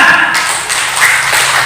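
An audience at a district-level Islamic school quiz competition claps for a team's score. The applause is dense, loud and continuous, with no talk over it.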